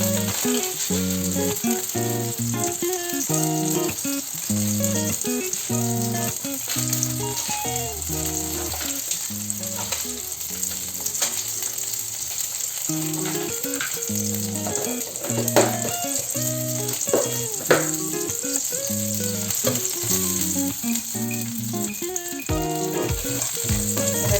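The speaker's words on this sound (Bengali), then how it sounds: "ফোড়নটা একটু ভাজা ভাজা হয়ে আসলে বেশ এই সুন্দর একটু গন্ধটা বেরোবে" Nigella seeds frying in hot oil for a Bangladeshi hilsa curry give a loud, steady crackling sizzle that runs the whole time, close up, with no one talking.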